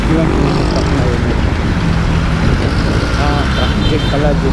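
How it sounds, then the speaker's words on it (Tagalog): Busy road traffic hums steadily, heard from a 125 cc XRM motard motorcycle, with constant engine and tyre rumble and a few passing vehicles. Someone talks over the traffic noise. "Traffic pala dito."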